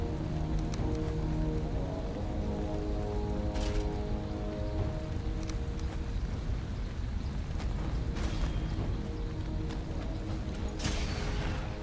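Steady rain falls at night in the Valheim video game, a soft, even hiss throughout. Faint tonal game sounds and occasional short bursts sit over it.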